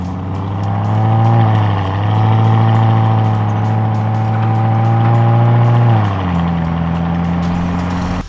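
A Lamborghini Urus S engine revs up steadily from a start, its loud harmonic roar climbing and holding before dropping to a lower drone near the end.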